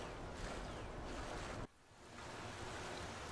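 Wash of water while entering a cave through a lake in a video game, a steady surf-like roar with wind, dipping briefly midway before resuming.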